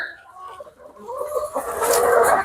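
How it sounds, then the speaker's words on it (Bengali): Hill chicken roosters on a farm cluck and call close by in a short burst that grows louder toward the end, with a little low background noise and no talking. "পাহাড়ি মুরগির সেট আপ এই সাইডে সব হলো রাতা"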